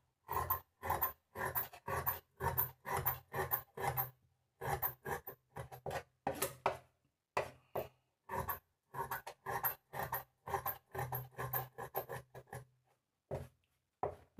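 Scissors snip through shirt fabric in quick rhythmic bursts of crisp, close cuts, steady for most of the stretch with brief pauses between runs, and no talking.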